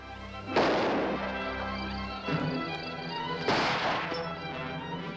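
Two heavy booming gunshots ring out in a 1946 black-and-white western, each a sharp loud blast with a long rumbling echo tail, a few seconds apart.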